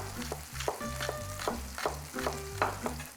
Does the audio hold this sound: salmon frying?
yes